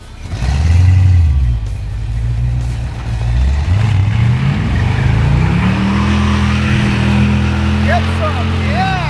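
Supercharged Jaguar rat rod doing a burnout in a parking lot, its engine revving loud and close with rising and falling pitch, roaring continuously while voices shout and cheer over it.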